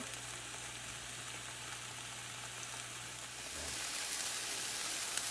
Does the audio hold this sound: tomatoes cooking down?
yes